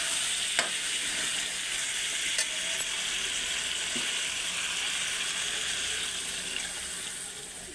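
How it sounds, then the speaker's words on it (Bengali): Water poured into a pan of well-fried spice paste for a ridge gourd, potato and fish curry, giving a steady hissing sizzle with occasional faint clinks of a utensil throughout. "এবার পরিমাণ মতন জল দিয়ে দেব"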